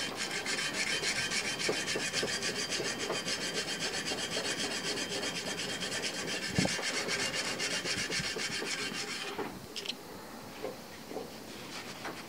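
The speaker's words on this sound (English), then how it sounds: "the blade with 150 grit sandpaper to remove all the heavy scratches." Steady, continuous rasping scrape of 150-grit sandpaper rubbed back and forth on a steel knife blade, close and even, pausing briefly near the end before a few lighter strokes.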